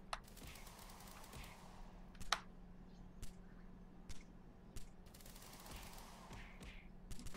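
Sharp gunfire cracks from a video game, scattered single shots and short bursts spread across the stretch over a steady low hum.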